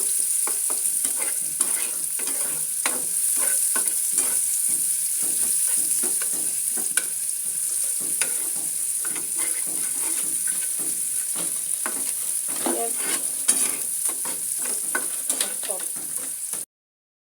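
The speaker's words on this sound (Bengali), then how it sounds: "আমি ওই মাছ ভাজা তেলটাতেই পেঁয়াজ কুচি দিয়ে দিলাম।" Chopped onions sizzling steadily in leftover fish-frying oil in a pan, with frequent stirring scrapes throughout, close and continuous with no talk.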